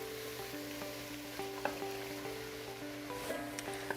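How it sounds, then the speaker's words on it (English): Fire roasted diced tomatoes go into a hot roux for gumbo, giving a soft, steady sizzle with a few small stirring clicks, quiet and close against low background hum. "next I'm going to add in my fire roasted diced tomatoes"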